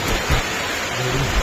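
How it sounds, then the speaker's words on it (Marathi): Heavy rain hisses as a steady, dense wash throughout while a truck is being loaded outdoors. A few faint low thumps sit beneath it. "पाऊस भरपूर लागलेला आहे आणि तिसऱ्या लोकेशनवर गाडी लोड होत आहे।"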